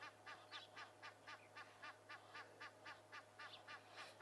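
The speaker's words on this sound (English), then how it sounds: "it might just be another goose in the area" A goose honks repeatedly near a dam, a steady run of about fifteen short, evenly spaced calls, faint and distant over a low background hum.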